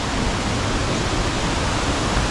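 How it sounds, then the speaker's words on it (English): Steady broadband rush of a waterfall in Solstice Canyon, Malibu, a constant even roar of falling water with no breaks. "You can see the waterfall up at the top there."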